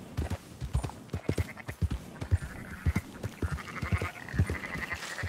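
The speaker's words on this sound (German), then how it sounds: "Marston, why don't you leave the sheep to me?" Sheep in Red Dead Redemption 2 bleat repeatedly amid a dense patter of hooves, several animals calling close by in quick succession with no talk.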